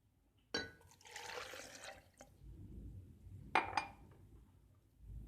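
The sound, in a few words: milk poured into jug with bananas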